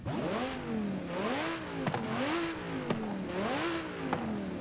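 A 2018 ID Zerouno sports car engine in Forza Horizon 5 revs hard three times in a row, the pitch climbing and falling with each loud, close throttle blip.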